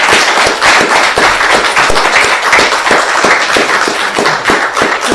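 Loud, dense applause from an audience after a book talk in Cartagena, many hands clapping close and fast in a continuous, sustained roar with no pause.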